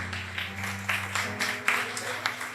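Church congregation clapping during a worship service, a dense stream of hand claps over a sustained low musical drone, with louder accents scattered through.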